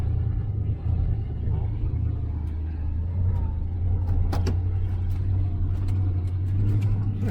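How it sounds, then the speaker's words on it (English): Old four-wheel-drive truck driving on worn tires, a steady low engine rumble and drone from inside the cab with occasional rattles and clicks, while people talk over it. "This old truck does pretty good."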